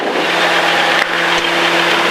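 An Ikarus C42 microlight's engine runs at a steady drone with a sustained hum and broad wind-like noise, close and loud, with a slight dip about midway.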